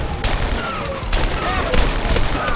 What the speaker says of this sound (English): the rotary cannon.